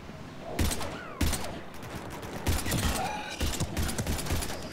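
Repeated pistol shots from the Mass Effect 3 video game, about eight sharp reports in irregular bursts over a steady background of game ambience.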